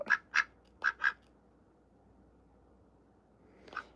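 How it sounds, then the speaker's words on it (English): A pet duck quacks four times in quick pairs near the start, loud and close, then goes quiet before one more quack at the end, with soft indoor room noise between. "Oh, your duck is so flipping cute."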